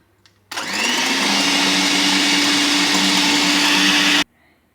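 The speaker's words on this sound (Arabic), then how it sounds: "غادي نحبس الطراب ديال الضو، الخلاط الكهربائي" An electric mixer whirs steadily at high speed for a few seconds, loud and close, then cuts off abruptly.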